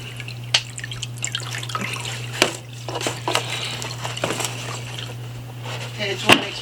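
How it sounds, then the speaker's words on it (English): Water runs into a container in fits and starts, with splashes and sharp clinks over a constant low hum. "fill up with some water here"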